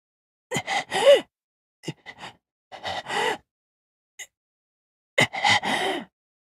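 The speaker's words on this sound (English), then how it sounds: "The blue-haired man was breathing like he'd been possessed." A man in the Togainu no Chi game breathes heavily in ragged gasps and groaning exhales, several close, loud bursts separated by short silences.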